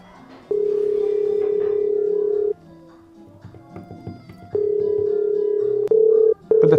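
Phone ringback tone from an unanswered call, long steady beeps repeating with pauses between them, loud and close. Clattering household noises fill the gaps.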